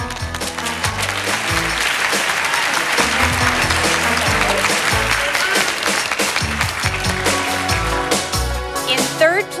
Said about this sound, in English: And in 4th place, give a big round of applause to Kelly Gina Lott.